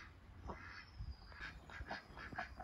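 Ducks quack faintly near a boat on the water at a chateau, a few soft, scattered calls over low background noise.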